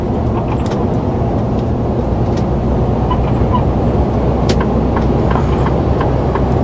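A truck (Lkw) hauling Porsche cars on its back accelerates hard, its engine a loud, close, continuous roar that holds steady throughout with no voices.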